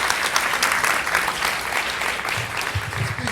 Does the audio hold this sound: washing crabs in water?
no